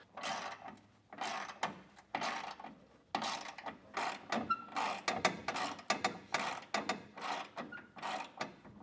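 A ratchet clicks in quick repeated bursts while loosening 15mm nuts on the hitch brackets of a 2024 Chevrolet Colorado, close and fairly quiet, with short pauses between runs of clicks.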